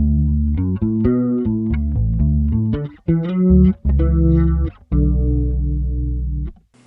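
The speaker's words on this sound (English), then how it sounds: "the Ensemble King is the guitar chorus" Electric guitar played through a Moore Ensemble King chorus pedal, shimmering sustained notes and chords ringing out loud and close, with brief gaps between phrases and no talking.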